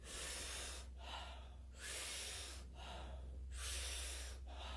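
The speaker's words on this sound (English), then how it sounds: "taking power breaths into the body" Three deep, forceful breath cycles, each a loud rushing inhale followed by a shorter release, in a steady rhythm with no talking.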